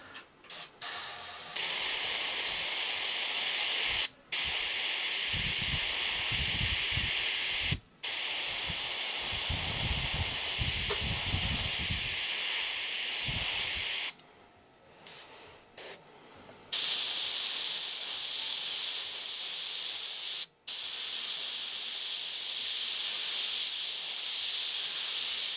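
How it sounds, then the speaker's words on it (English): An airbrush sprays paint onto a Jack Nicholson Joker bust from Batman in long steady hissing bursts, close and loud, broken by several short pauses between passes. "We just airbrush and get about the size like a peanut."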